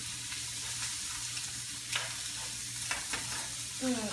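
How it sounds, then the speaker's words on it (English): Salmon and vegetables frying in a pan, a steady close sizzle with occasional stirring scrapes and clicks of a utensil against the pan. "we also need to make sure we keep our vegetables cooking nicely too"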